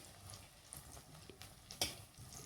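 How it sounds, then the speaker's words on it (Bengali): Soft, steady frying sizzle of banana-flower koftas in oil, with a few light clinks and taps of a utensil turning them in the pan; no talking. "দেখুন মা কত সহজেই এগুলোকে উল্টে পাল্টে লাল করে ভেজে নিচ্ছে।"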